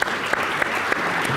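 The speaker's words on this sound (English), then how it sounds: "Round of applause for Richard." Audience applause at an annual investor gathering, a brief burst of many hands clapping together with a few louder individual claps, fairly close and steady throughout.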